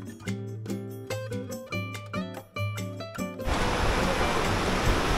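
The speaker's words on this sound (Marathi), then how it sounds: "अचानकच एका छोट्याशा धबधब्याने आमचे लक्ष वेधून घेतले." A small roadside waterfall near a farmhouse during the monsoon, its broad rushing splash rising suddenly and continuing steadily after a stretch of melodic music.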